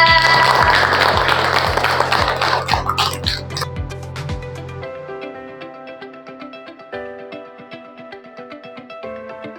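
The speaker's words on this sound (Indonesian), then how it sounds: "tepuk tangan buat Naura." Applause from a classroom audience during an interactive lesson, with a dense burst of clapping for about five seconds before it thins out under a ringing musical tone.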